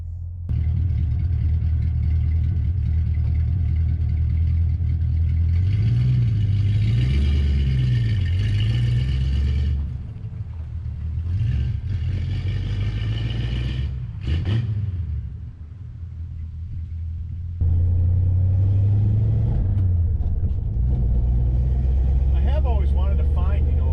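A 1974 Plymouth Scamp muscle car with a 4-speed manual, its engine rumbling loud and close as it pulls away, revving and rising and falling through the gears with a deep low drone.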